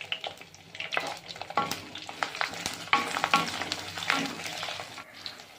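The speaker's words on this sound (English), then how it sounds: "Then add the garlic and saute well" Garlic sautéed with curry leaves and cumin tempering in oil for a tamarind curry: crackling sizzle punctuated by irregular scrapes and clatter of stirring, close and moderately loud.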